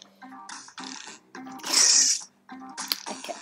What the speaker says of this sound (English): There's a cat somewhere making noise.